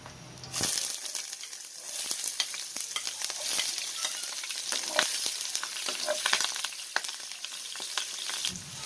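A little cooking oil sizzles and fries steadily in a pan while sautéing for chicken sotanghon soup, with stirring scrapes and crackles running loud and continuous throughout.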